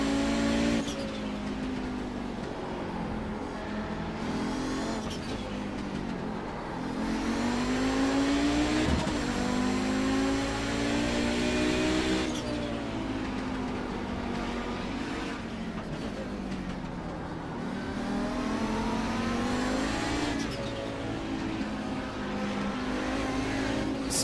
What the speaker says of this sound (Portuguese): Group of fast cars approaching.